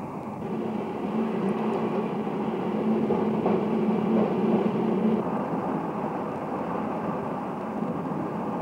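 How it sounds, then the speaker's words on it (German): A Rheingold passenger train rolls through the outskirts of Arnhem, heard as a steady low rumble of wheels on track with a droning hum that swells slightly midway, close and continuous, with no talking. "während unser Zug noch durch die Randbezirke von Arnhem rollt"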